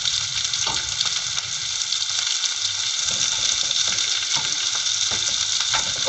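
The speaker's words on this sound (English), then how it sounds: "saute till it gets a little bit burnt, the onion" Onion and curry leaves sauté in hot oil in a pan, a loud, constant close-up sizzle with scattered crackles and pops throughout.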